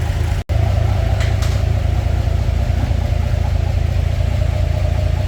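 A Bombardier engine running in park gives a steady, loud mechanical drone with a constant low throb, cut by one brief dropout near the start.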